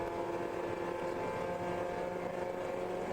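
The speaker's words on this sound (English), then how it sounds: "Really winding that Miata engine out." A Mazda Miata race car's engine wound out hard during a ChampCar endurance race at Sonoma, a steady, dense mechanical drone heard continuously at a distance with no voices over it.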